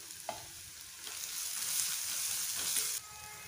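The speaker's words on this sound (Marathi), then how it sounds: "यामध्ये टाकूया हिरवी मिरची, आलं लसूण पेस्ट, कढीपत्ता टाकूया, थोडंसं हिंग टाकूया" Green chili, ginger-garlic paste, curry leaves and asafoetida hit hot oil in a pan for veg pulao, bursting into a loud steady sizzle with a few stirring scrapes, close up and wordless, cutting off sharply near the end.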